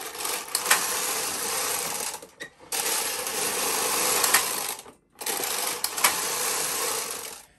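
A Bond knitting machine working a 1x1 rib: three loud rasping carriage passes, each a couple of seconds long, separated by brief pauses, close and clear.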